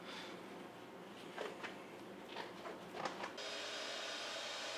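A steady motor hum of a vacuum cleaner sucking up yellow jacket wasps runs throughout, with a few short rattling bursts and a louder, brighter suction surge near the end.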